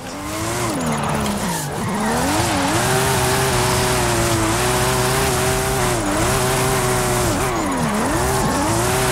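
In Forza Horizon 5, a car drifts with an engine roaring and rising and falling through the turns, while continuous loud tire squeal runs throughout.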